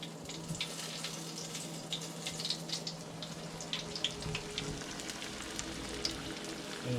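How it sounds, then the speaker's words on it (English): Steady crackling sizzle of shark pieces frying in hot oil, with dense popping and spitting throughout and no voices. "Now, we have the shark, and we're going to start frying them."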